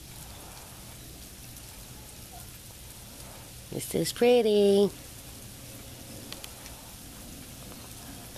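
Sleet and ice pellets fall during a light Southern snow storm, making a steady soft patter and hiss throughout, with a brief spoken remark near the middle.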